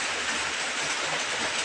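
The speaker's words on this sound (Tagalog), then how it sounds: "Malakas talaga ulan dito" Heavy rain pouring down in a dense, unbroken hiss that stays loud and even throughout, with no voices over it.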